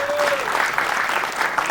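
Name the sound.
loud applause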